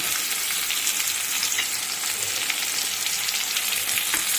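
Chopped onions and crab frying in an oiled pan for a Bengali crab curry give a steady, close sizzle with soft crackling throughout, a faint scrape of stirring near the end.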